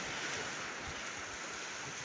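Steady wash of surf on a wide open beach, continuous broadband roar with wind buffeting the microphone, no distinct breaks between waves.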